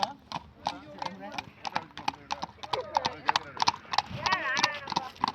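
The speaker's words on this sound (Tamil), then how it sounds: "சூப்பரா போகுது பாருங்க குதிரை சவாரி." A horse ridden at a mountain outing clip-clops in a steady, brisk rhythm of close hoofbeats, with voices talking and calling over the hooves throughout.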